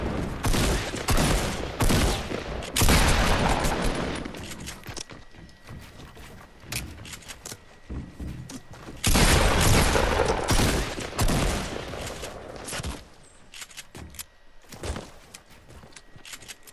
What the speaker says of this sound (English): Different team shooting us, Colton.